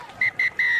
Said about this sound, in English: that is half-time under the whistle of Harry Fenton